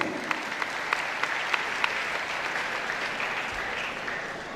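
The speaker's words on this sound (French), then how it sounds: "Et je vous demande encore d'applaudir votre parrain de promotion." A graduation ceremony crowd applauds steadily, a dense wash of clapping with a few sharper claps standing out, sustained throughout with no voices.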